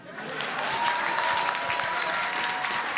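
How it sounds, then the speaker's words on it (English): A crowd at an NBA Cares Legacy Project event with the Golden State Warriors applauds an introduced guest, a full, steady wash of clapping that swells and holds, with a faint murmur beneath. "Please give a big round of applause to Ahmad"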